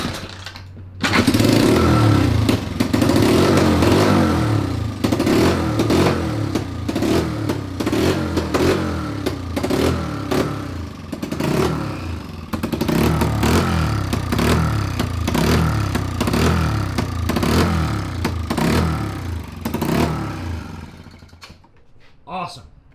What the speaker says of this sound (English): now that we've heard our red Z50R crank over even without a carburetor